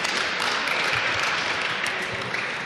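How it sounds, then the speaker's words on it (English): Short round of applause from a panel audience welcoming guests at a Belarus–Lithuania startup event, a dense, steady clatter of many hands close by with no talk over it. "So just short round of applause for guys coming around."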